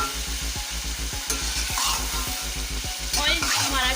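Chicken pieces fry in hot oil with a dense, steady sizzle, punctuated by regular scraping stirs of a spoon in the pan, close and moderately loud with no talking.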